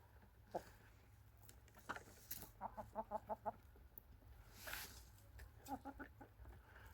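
Chickens on a farm clucking near a henhouse at evening feeding time, a quick run of soft rhythmic clucks in the middle and scattered calls around it, fairly faint against a low background hum.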